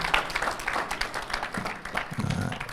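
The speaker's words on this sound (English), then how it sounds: "Okay, but another hand clap for Dr. Bajibio." Audience applause at a church community conference on education, a steady burst of many hands clapping together at moderate loudness, with a little background voice mixed in.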